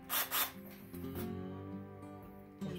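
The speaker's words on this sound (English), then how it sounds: "we'll drill a 1/4 inch hole in this piece of 2x3 material we have." Craftsman 20V cordless drill boring a 1/4 inch hole through a piece of 2x3 wood, a steady whirring motor with grinding bit noise after two brief bursts, close and moderately loud.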